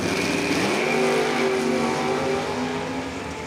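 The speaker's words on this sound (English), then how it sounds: "Couple quick door cars." Door cars launching down the drag strip at Numidia Dragway roar loudly and continuously at close range, the engine note holding strong before easing slightly toward the end, with no talking.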